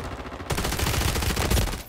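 Loud, dense gunfire erupts suddenly after a brief lull and keeps going as a sustained burst of overlapping shots until the end.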